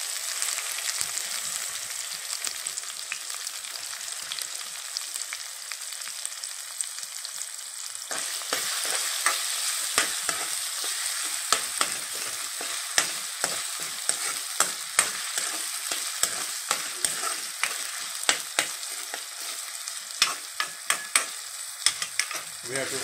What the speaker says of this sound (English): We have to fry this onion till it turns brown color.